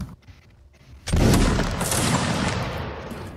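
A musket volley in a Napoleonic line battle game fires around one second in as a sudden loud burst, then trails into a long rumbling echo of scattered shots.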